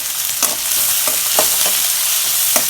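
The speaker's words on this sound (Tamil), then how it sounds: "நல்லா வெங்காயத்தை வதக்கிக்குவோம் வெங்காயம் இது மாதிரி நல்லா வதக்கிக்கோங்க" Onions sautéing in a pan for anchovy dry fish thokku give a steady, close sizzle, with a handful of sharp spatula scrapes and stirs scattered through it. Nobody speaks.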